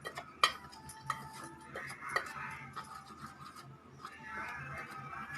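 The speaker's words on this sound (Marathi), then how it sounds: "आता हे आपण सर्व मिक्स करून घेणार आहोत" Batter of wheat flour, salt and other malpua ingredients being stirred and mixed in a bowl, with clinking taps of a spoon against the side and soft scraping strokes, close and moderately quiet, no voices.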